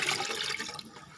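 Water is poured onto garden plants as a steady splashing, gushing stream, loud and continuous for about a second before easing slightly.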